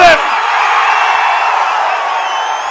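A large crowd at an election campaign road show in Panruti roars and cheers, a dense continuous wall of voices, whistles and shouts that stays loud throughout after a brief opening burst.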